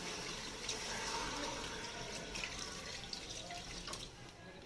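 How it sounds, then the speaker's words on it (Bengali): Water poured from a tap or jug into a pressure cooker holding mutton, a continuous soft splashing stream, fairly quiet and close, with no voices over it. "এবার একটু জল দেবো,"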